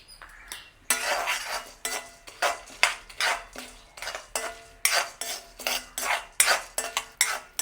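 Pumpkin seeds roast in a pan, giving a steady run of sharp, close clicks and light scraping strokes in an uneven rhythm, with no voices.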